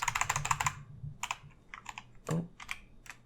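Computer keyboard typing while writing code, a quick run of close, crisp key clicks followed by scattered single taps and a thumping keystroke, fairly quiet with no voice.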